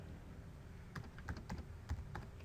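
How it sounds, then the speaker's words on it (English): Quiet, irregular clicking of keys being typed on a computer keyboard, a short burst of keystrokes over faint background hiss. "I'm just going to start typing Sydney"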